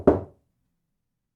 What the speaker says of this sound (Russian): Я снова слышу стук.